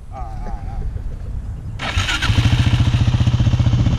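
A motorcycle engine fires up and revs in a rapid, throbbing pulse close by during wheelie practice, loud and rising, with a person talking over it.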